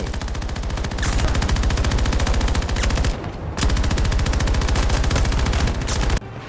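PKP-BP machine gun fired in Battlefield 2042, loud sustained rapid bursts of gunfire in a fast, even rhythm, with two brief pauses between long strings of shots.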